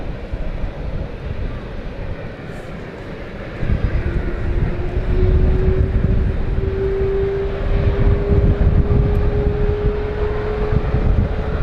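A British Airways CityFlyer Embraer jet departs for Florence, a loud broad engine roar with wind buffeting and a rising turbine whine building through the clip, heard from nearby outdoors.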